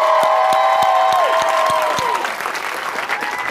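A television studio audience bursts into loud, sustained applause and cheering for Amy Schumer's entrance, dense clapping close and full before easing slightly, with a band's sliding horn notes over it.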